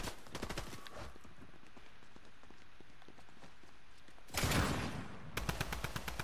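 Rapid automatic bursts of drum gun fire in a battle royale video game, sharp repeated shots at the start and end with a brief louder blast near the close, under steady game ambience.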